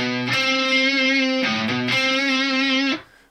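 A distorted electric guitar plays a short run of sustained notes. One note jumps up an octave, then the phrase repeats and rings out loud and alone before cutting off.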